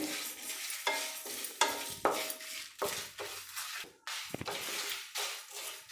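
Poppy seeds and white sesame toasting in a hot pan, with repeated scraping stirs and a soft crackle of frying that rises and falls in short bursts.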